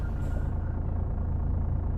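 Steady low engine drone from an Iveco truck with a modded engine in Euro Truck Simulator 2, a constant rumbling hum with a brief faint hiss near the start and no talk.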